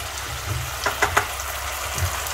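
Potatoes simmer in spiced gravy in a pan over a low flame, with a steady soft sizzle and a few faint stirring knocks, close by.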